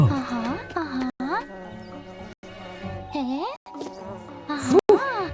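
A loud, close bee buzz swoops up and down in several passes, with brief silent gaps between them, mixed with animated vocal sounds.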